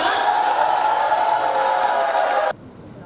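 A crowd in a university auditorium greets a former defence minister arriving for a security lecture, with a dense, loud wash of clapping and cheering that stops sharply after two and a half seconds.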